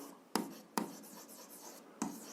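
A pen writes out an algebra solution for a grade 7 absolute-value exercise, heard up close as quiet scratching strokes with three sharp taps of the pen against paper.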